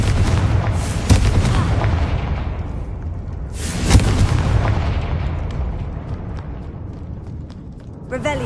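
A Confringo fire-blast spell from the video game Hogwarts Legacy, a loud booming burst that erupts twice amid continuous rumbling game noise, with a sharp crack near the end.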